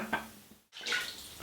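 Tap water runs into a sink for a cold-water face rinse after a shave, a steady splashing hiss that briefly cuts out and then resumes more strongly, close and unaccompanied by voices.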